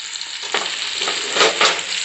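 Gongura leaves for chutney fry in a pan with a steady, close sizzle, and a couple of louder crackling surges come as they are stirred.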